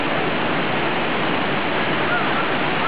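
Loud, continuous rushing water at the Gustavsvik water park in Örebro, a steady roar of flowing water with no breaks.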